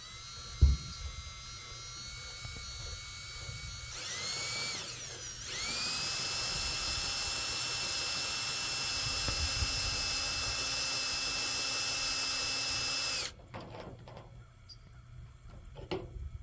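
A power drill bores two holes for a bolt, a steady high whine that runs about eight seconds close by, then cuts off and leaves quiet handling noise.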